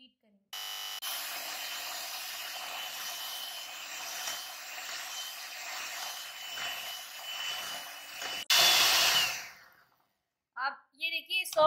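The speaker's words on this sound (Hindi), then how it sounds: "ये हमने ग्रैनुलेटेड शुगर डाली, ये हमने ब्राउन शुगर डाली, अब हम इसे अच्छे से बीट करेंगे।" An electric mixer beats butter with granulated and brown sugar for cookie dough, a steady close whirring hum running for several seconds before stopping, followed by brief bursts of talking.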